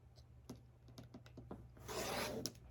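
Fabric selvage is cut away, with a few soft scattered clicks and taps followed by a steady rasping cut about a second long, close and fairly quiet.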